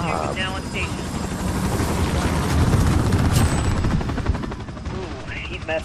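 Attack helicopter in the Call of Duty Modern Warfare video game, its rotor roar blending with dense, continuous gunfire and explosions throughout, loud and busy, with people talking over the action.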